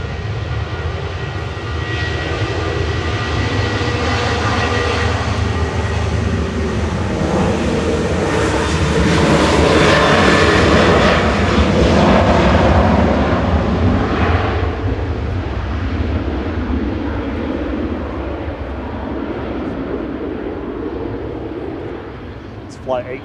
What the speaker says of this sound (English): Ryanair 4006 is just rolling out on 23 right from Alicante